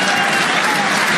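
Dense, steady crowd applause fills a snooker exhibition hall, loud and continuous throughout with no gaps.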